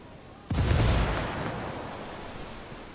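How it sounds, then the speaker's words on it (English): A grenade goes off in Ghost Recon Wildlands with a single sudden, heavy blast and a deep boom, then a long rumbling roar that slowly fades. "I'm supposed to just throw a grenade at him?"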